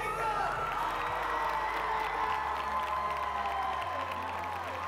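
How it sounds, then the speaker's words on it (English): A large indoor audience applauds and cheers loudly for a 16-year-old junior student named Jacob, with steady dense clapping, shouts and whoops sustained throughout at close range, and voices mixed into the crowd noise. "give a huge round of applause to Jacob"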